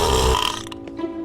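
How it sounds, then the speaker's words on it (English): An animated female character lets out one loud, close burp that rumbles briefly and then trails off into a quieter throaty tail. "Burp in face."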